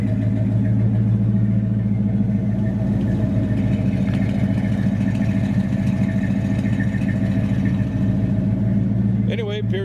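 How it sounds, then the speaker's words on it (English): A 1973 Chevrolet El Camino SS 454 with dual exhaust idles nearby, a steady and deep rumbling V8 throb that continues without a break while someone talks briefly over it. "We'll let you hear it run here. Dual exhaust, both sides."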